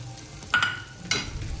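Tava vangi (eggplant) being stirred in a pan after peanut powder is added, two short scraping bursts over a low, steady sizzle of frying.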